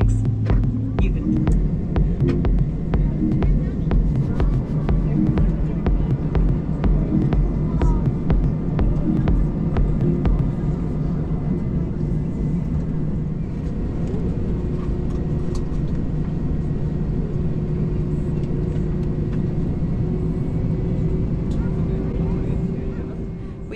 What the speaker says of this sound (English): we commenced our pushback from the gate 5 minutes ahead of schedule